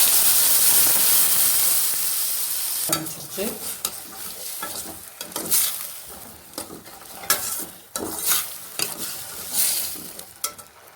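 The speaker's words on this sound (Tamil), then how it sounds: "இப்போ நம்ம பயிரை சேர்த்துறோம்" Cooked green gram being stirred into a spiced masala in a pan, opening with a hissing sizzle that then gives way to repeated close scraping and stirring strokes in an uneven rhythm.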